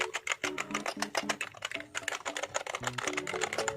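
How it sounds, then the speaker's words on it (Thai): Rapid, continuous clacking of keys being pressed on an RGB keyboard, close up and fairly loud, with an uneven typing rhythm and no voices. "เสียงกดมันก็ฟิลก็ประมาณนี้เลยนะครับทุกคนฟังเสียงเอา"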